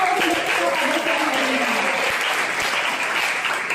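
Sustained audience applause for a speaker at a university campus talk in Yogyakarta, loud and dense from start to finish, with a voice briefly audible underneath early on.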